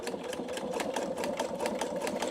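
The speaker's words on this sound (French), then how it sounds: "Donc là, je démarre ma couture." A Pfaff Expression 720 sewing machine stitching fabric for a pouch, a steady fast rhythmic mechanical whir with regular needle clatter, close and continuous with no talking.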